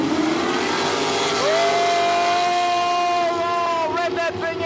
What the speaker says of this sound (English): Oh, rev that thing out. Rev it out.